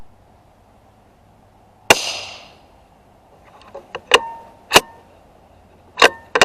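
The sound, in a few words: 17 HMR Winchester rifle shots, Lithgow LA1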